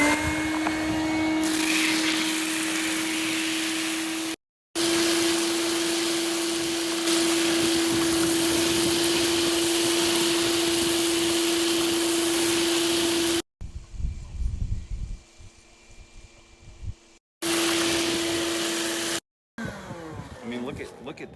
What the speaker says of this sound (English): This is a big Shop-Vac, big Craftsman, but watch how easy it